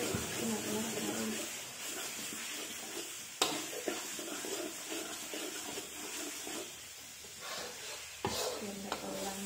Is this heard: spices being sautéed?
yes